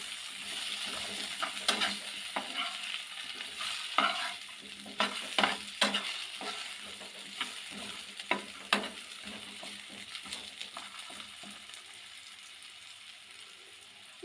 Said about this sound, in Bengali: সেগুলো কিন্তু আগে একটু হলুদ লবণ দিয়ে তেলে ভেজে নিই